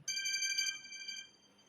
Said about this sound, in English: your phone ringtone sound